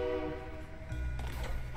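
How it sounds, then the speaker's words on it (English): A train passes outside a window, with sustained horn-like tones at first, then a low rolling rumble that builds and carries through to the end. "And there's a train outside of my window."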